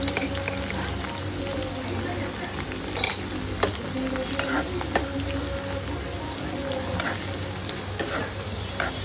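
Onion, chili and garlic stir-fry in hot oil until browning, a dense continuous sizzle with irregular scraping strokes of a spatula against the pan, close and steady, no talking.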